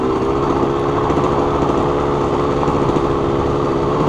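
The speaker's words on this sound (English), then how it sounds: "Clutch is slipping really bad." A Suzuki RM125 two-stroke dirt bike engine running with a badly slipping clutch, a steady buzzing drone held at near-constant pitch, loud and close with no talk.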